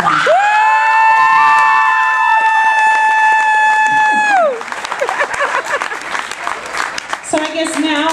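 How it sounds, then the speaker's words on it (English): A crowd at a band competition awards cheers and applauds for the winning band, opening with a long, loud whoop followed by dense clapping and shouts nearby. "Big round of applause for this band."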